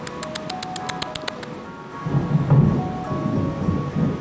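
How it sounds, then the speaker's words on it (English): Game thunder from a lightning strike in the city-building game TheoTown, a deep rumbling roll that swells up about halfway through and stays loud, following a run of evenly spaced high chime-like tones. "Oh no, it's another lightning strike."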